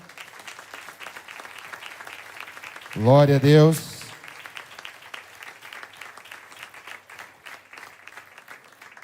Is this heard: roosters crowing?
no